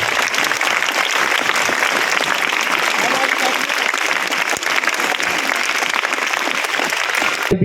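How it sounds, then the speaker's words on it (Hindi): Children clapping in welcome at a shoe distribution event, a loud, sustained burst of crowd applause throughout. "बच्चों, तालियों में कोई कमी नहीं रहनी चाहिए।"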